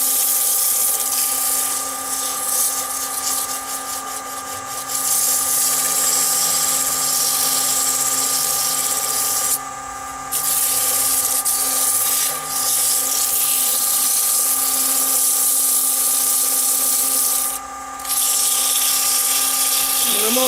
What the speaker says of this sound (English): So this is kind of quite jagged, so I need to be careful when I sand this.